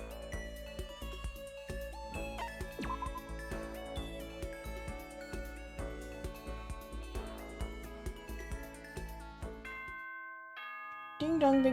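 Two-tone ding-dong announcement chime from the Danganronpa video game, ringing clearly over a busy musical background and followed by a brief pause, with a louder chime tone at the very end.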